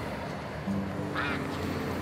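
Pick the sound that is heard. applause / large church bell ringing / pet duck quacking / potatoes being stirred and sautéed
pet duck quacking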